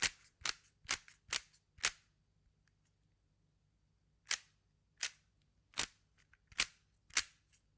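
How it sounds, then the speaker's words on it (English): A Rubik's Cube is twisted close by in sharp, crisp clicks: five quick snaps, a pause of a couple of seconds, then six more spaced turns, with nothing else heard in between. "It is a Rubik's Cube."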